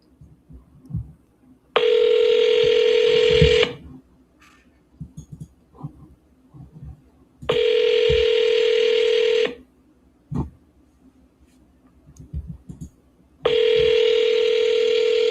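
Telephone tones during calls to a wholesale real estate agent: three long steady ringback tones, each about two seconds, separated by quieter gaps with faint clicks and handling noise, no talk.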